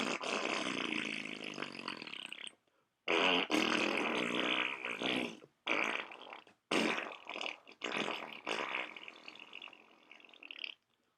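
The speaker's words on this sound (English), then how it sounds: "Here is a wet fart." A wet fart sound, several sputtering bursts in a row separated by short gaps, loud and close with a rough, squelchy texture and no talking.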